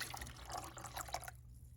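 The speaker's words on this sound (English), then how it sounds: "I'm going to actually add a bit more water" Water poured from a cup into a pot of homemade soup, a quiet splashing trickle that runs steadily for about a second before stopping.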